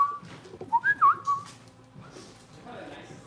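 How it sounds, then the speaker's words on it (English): A person whistles a short wavering melody of a few quick notes up close, then fades into quiet room noise with faint background sounds. "I just heard my own whistle"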